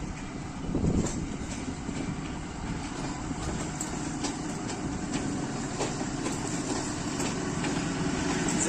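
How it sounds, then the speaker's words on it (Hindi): A Pakistan Railways rail car rolling along the tracks, a steady loud rumble of wheels with faint rhythmic clatter and a swell near the start that continues without letup. "6428 के साथ रेल कार।"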